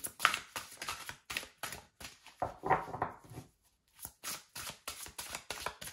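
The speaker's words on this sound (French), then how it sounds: "Je vais vous prendre une carte de manifestation et nous aurons terminé pour ce tirage incroyable." Tarot cards shuffled and handled during a French-language card reading, giving a busy run of soft papery riffles and flicks, close and fairly quiet, with one short pause near the end and no talk.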